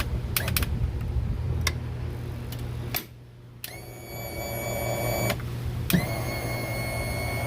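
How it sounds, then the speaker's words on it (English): Car liftgate tilt motor running after replacement, with new wiring installed: a steady electric whine with mechanical clicks, pausing briefly, then restarting as a sustained motor hum, close and fairly quiet. "We've already installed the wire and the liftgate motor."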